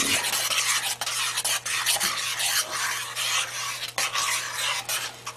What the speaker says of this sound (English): And the onions. Stir all that in.